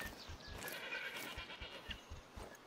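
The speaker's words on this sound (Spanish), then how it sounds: "Ahí no sé si escucharon, una cabra anda dando vuelta." A goat bleats faintly and far off in a New Zealand hunting game, a few soft calls over quiet outdoor ambience.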